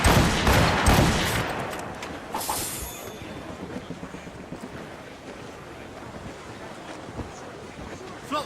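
Ship cannons fire in a rolling broadside in Assassin's Creed Rogue, a loud burst of booms at the start that decays into rumbling wind and sea noise, with scattered thuds trailing off.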